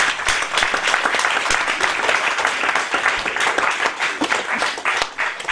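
A church congregation at a French-language sermon breaks into sustained applause, with dense overlapping claps that stay loud and even for several seconds.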